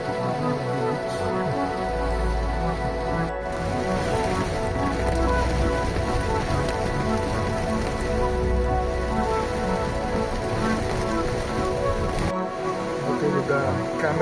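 Rain falls at a beach in Zambales near Subic Bay as a steady, dense patter close by, with a low rumble underneath.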